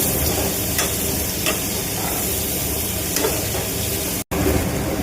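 Whole garam masala and onions frying for a chicken dish, a steady, fairly loud sizzle that crackles continuously, with occasional brighter pops and one abrupt momentary dropout near the end.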